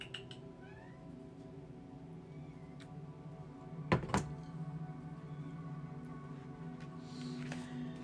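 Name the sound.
cat meowing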